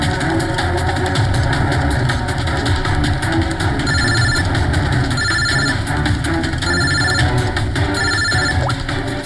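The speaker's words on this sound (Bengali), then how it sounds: "ফোন আসছে" A mobile phone rings in repeated short bursts of ringtone over the steady rumble of an idling vehicle engine at the roadside, with the rings clear above the engine noise.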